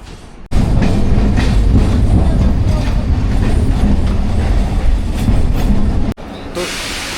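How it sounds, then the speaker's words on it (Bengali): A Dankuni local train bound for Sealdah pulls into Bahnagar station, a loud, steady rumble of wheels and carriages that fills the platform for about six seconds before cutting off abruptly. "আমার শিয়ালদা যাওয়ার ডানকুনি লোকাল আসছে এখন 6টা 13"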